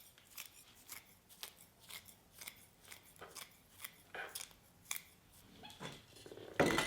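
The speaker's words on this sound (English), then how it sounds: "I'm gonna trim some of these roots." Scissors snipping the roots of a yaupon holly bonsai, a steady series of soft close cuts about twice per second, ending in a louder rustle.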